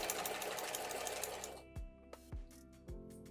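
A sewing machine with a walking foot stitches bulky cathedral window quilt blocks at a quarter-inch seam in a fast, even whir, then a few slow separate thumps of the needle, close and alone.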